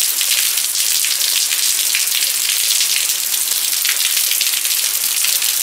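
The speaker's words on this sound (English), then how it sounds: "There's the kind of rain I was riding in." Heavy rain pelting down during a motorcycle ride, a loud, dense, continuous hiss of drops striking surfaces close by, with no voices.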